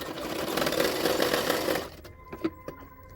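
Sewing machine running a seam on a katori blouse: a close, steady whirring stitch for about two seconds that stops abruptly, followed by a few faint clicks and knocks.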